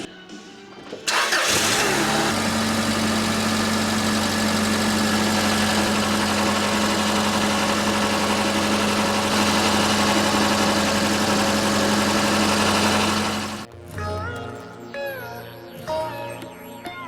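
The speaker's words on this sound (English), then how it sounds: "I like to turn the vehicle on and make sure there's no leaks." A 1999 Subaru Outback engine cranks, catches and settles into a steady, loud idle for about twelve seconds, then cuts off, leaving scattered clanking and shop noises.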